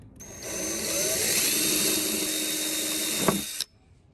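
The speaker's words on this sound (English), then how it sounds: "Let's drill the holes and see what it looks like." A power drill whines steadily for about three seconds, close and loud, drilling holes in the tailgate of a new Ford Bronco, then stops abruptly.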